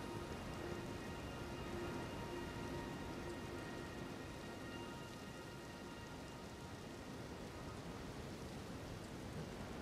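Steady rain from the video game Elden Ring hisses as a continuous, even wash throughout, with no distinct thunderclap standing out.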